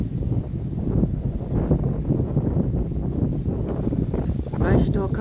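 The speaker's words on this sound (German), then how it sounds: "Es ist ja schon windig, Orkanböen schon wieder leichte." Strong gusty wind from a storm front roars and buffets the microphone outdoors, rising and falling in broad rushes, with a person talking faintly beneath it.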